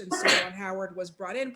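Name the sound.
sneeze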